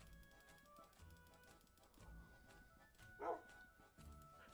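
A tamed wolf in Minecraft gives a few soft barks among faint clicking and game sounds, quiet and brief against a low background.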